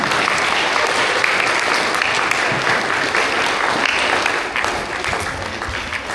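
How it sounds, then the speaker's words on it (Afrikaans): An audience claps for under-9 players at a school prize-giving for grades 1 to 3, a steady dense round of applause lasting the whole stretch, fairly close and lively. "Ons klap vir al die onder 9 spelers"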